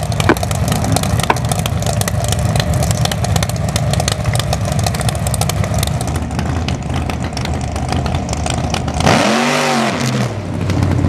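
A Chevrolet Monza funny car engine runs loud and rough at a drag strip, a dense mechanical racket that keeps going, then swells into a sweeping rising roar near the end.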